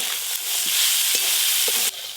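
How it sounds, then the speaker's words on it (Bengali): Cauliflower and peas sizzle loudly as they are stir-fried in a pan, a dense continuous hiss with soft scraping knocks from the stirring. "ফুলকপি আর মটরশুঁটি ভালো করে নেড়ে নিয়েছি"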